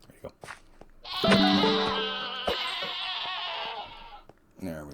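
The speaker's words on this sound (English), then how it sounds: "Quantum Goat approaching" A goat from the video game Stoneblock 4, the Quantum Goat, lets out one long, loud, wavering bleat lasting about three seconds, close and clear, with brief clicks and short bursts of sound before and after it.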